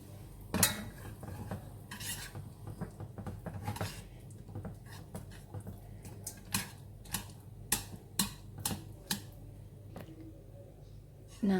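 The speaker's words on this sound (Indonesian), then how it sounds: "Ini kita aduk terus sampai meleleh semua atau menyatu." A utensil stirs butter and margarine melting in a pan for a chocolate cake, giving quiet, close scraping and metallic clinks that settle into a fairly regular tapping rhythm.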